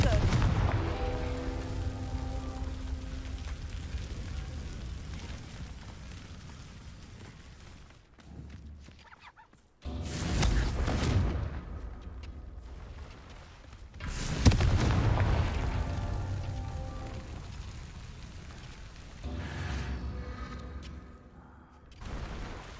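Blasting-spell explosions in the video game Hogwarts Legacy: a few heavy booms erupt at intervals, each swelling into a rumbling blast that slowly fades, with spoken voices mixed in among them.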